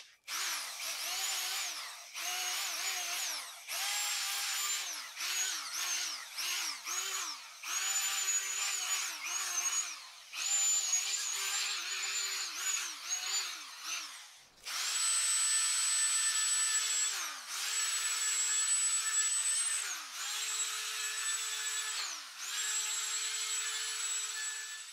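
A power tool grinds carbon deposits off a Moskvich cylinder head outdoors, running in loud, repeated bursts of high-pitched whirring with brief pauses between passes, then longer continuous runs.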